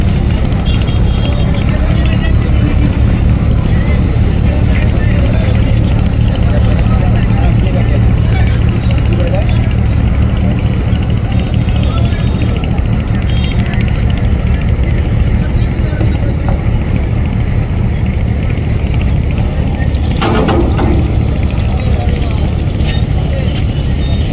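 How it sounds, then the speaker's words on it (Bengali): The Sundarban 16, a large passenger launch, steams toward Barisal with a loud, continuous engine drone and water rumble, while people talk and call out nearby throughout. "সবচাইতে বড় সুন্দরবন 16 বরিশালের উদ্দেশ্যে যাচ্ছে"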